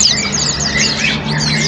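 A long-tailed white-rumped shama (murai batu) songbird at a bird market stall sings loudly and continuously, a dense stream of bright chirps and warbling trills close by over a steady low hum.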